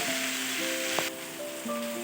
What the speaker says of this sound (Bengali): কষে নেব বেগুন আলুটা একটু ভাজা ভাজা কষা কষা হয়ে গেছে